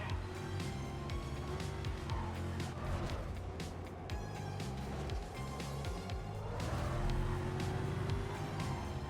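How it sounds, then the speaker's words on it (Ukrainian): A Dodge Charger in Need for Speed Carbon roars continuously as it accelerates toward top speed, a dense sustained engine drone rising slightly near the end. "зараз провіримо максималку на чарджі"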